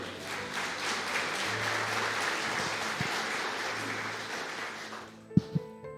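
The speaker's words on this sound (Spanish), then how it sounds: "Dele el aplauso a él, amén." A church congregation applauding together for several seconds in a sustained, even wash of clapping that fades out, followed by a couple of sharp knocks near the end.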